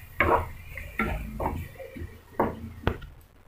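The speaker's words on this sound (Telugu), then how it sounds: "ఇలా ఉల్లికారం వేసిన తర్వాత మొత్తం ఒకసారి బాగా కలపాలి" Ivy gourd tossed with ground onion-chili paste in a pan, a few separate scraping and clinking strokes of a spoon against the metal, close and moderately loud, with short pauses between and no talking.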